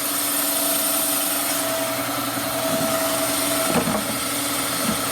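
A boring machine cuts a Harley-Davidson M8 big-bore cylinder, taking a 107ci bore out toward 114–117ci. It gives a steady, close mechanical hum and whine with faint vibration, and brief scraping bursts near the end.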